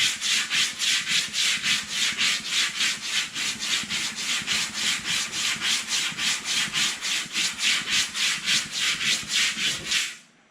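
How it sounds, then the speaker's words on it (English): Hand sanding block rubbed over the metal crease of a 1935 Chevy sedan fender during dent straightening, a steady run of rhythmic back-and-forth scrapes at close range for about ten seconds, then stopping abruptly. "we hit it with our sanding block"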